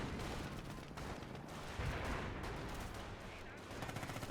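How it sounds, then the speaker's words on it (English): Gunfire from a Panzer II tank in the Company of Heroes strategy game, a dense stretch of rapid battle shots and bursts running continuously under loud ambient combat noise throughout. "Pack taking some fire from his own Panzer II."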